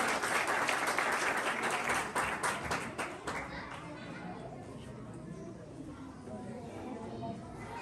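Audience applause at a school prize distribution ceremony in Buner fills the hall with dense clapping for about three seconds, then thins into scattered claps and crowd murmur.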